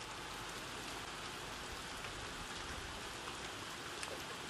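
Steady rain falling outside, an even, continuous hiss of drops on surfaces with one small sharper tap near the end and no voices.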